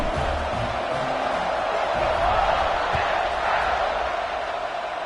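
Steady, dense stadium crowd roar from a college football video game, Michigan on the road, swelling slightly mid-clip as the kickoff unit takes the field, with no clear speech over it.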